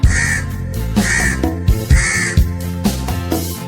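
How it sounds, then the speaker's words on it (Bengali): Harsh crow caws repeat in a steady rhythm, about one per second, over a thumping musical beat in a Bengali children's rhyme song. "ডালে বসে কাক ডাকে কাক কাক কাক"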